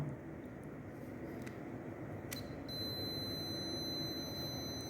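A buzzer in a push-button circuit gives off a steady, high electronic tone that begins partway through and holds to the end over a constant background hiss.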